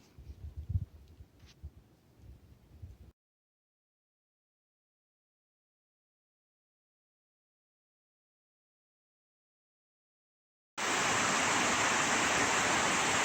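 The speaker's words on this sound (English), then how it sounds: "small 20-foot waterfall." A small 20-foot waterfall on an unnamed creek in the Shining Rock Wilderness of North Carolina. After a long stretch of near silence, a steady rushing roar of falling water starts abruptly and continues to the end.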